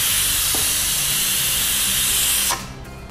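Steam hisses loudly and steadily from a pressure cooker whistle while sweet pongal cooks, then cuts off abruptly near the end, leaving a quieter background.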